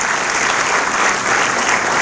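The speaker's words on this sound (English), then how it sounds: "Let's have a round of applause for all of the Gaston County Schools Business and Community Partners" A reception crowd applauds business and community partners with a dense, even wash of clapping from many hands, loud and continuous throughout.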